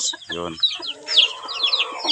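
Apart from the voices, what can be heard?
pet chickens clucking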